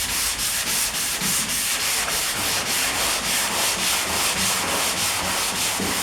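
Sanding block rubbed steadily back and forth over a car body panel in a crisscross pattern, a continuous, close, rhythmic scratchy rasp with regular strokes and no talking.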